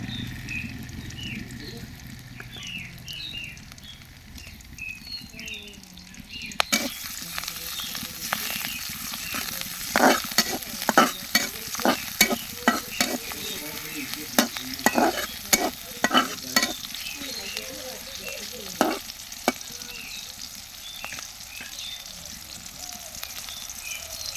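Green chilies and garlic fry in soybean oil, a steady sizzle that jumps louder partway through as they hit the pan, then crackles with repeated sharp stirring scrapes.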